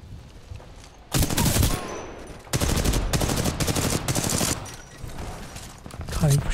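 Bursts of rapid automatic gunfire aimed at a Titan during an Attrition match in Titanfall 2, sustained volleys with short gaps, loud and close, mixed with other game sounds.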